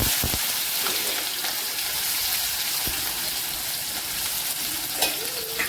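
Cumin and mustard seeds frying in hot oil for tomato chutney, a steady close sizzle with faint scattered pops and a couple of spoon taps, no voices.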